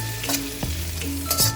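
Red and yellow onions sauté in a pan and are stirred, with a brief loud sizzle broken by a few quick utensil scrapes and clinks.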